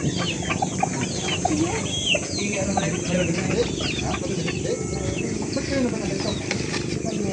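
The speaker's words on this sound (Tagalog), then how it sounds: "Daming manok." A flock of chickens clucks continuously close by, many short overlapping calls forming a steady chatter, with voices faintly mixed in.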